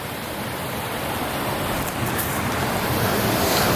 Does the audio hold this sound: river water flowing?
yes